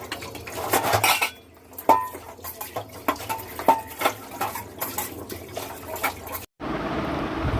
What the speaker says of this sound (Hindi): तो धुल लेती हूँ बर्तन